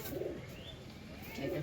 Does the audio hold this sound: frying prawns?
no